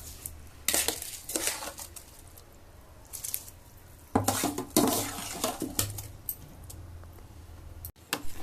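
Close, irregular scraping and clinking of a utensil stirring boiling soaked rice for vegetable biryani in a metal pot, in uneven bursts.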